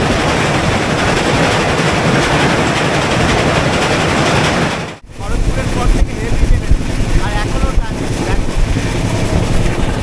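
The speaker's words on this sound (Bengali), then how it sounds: "মুড়ি জংশনে এসে ট্রেনটা থামলো" An express train from Ranchi to Howrah, the Hatia Express, pulling into Muri Junction station, loud and close, with dense rolling noise that cuts out sharply midway and then resumes as lighter clatter.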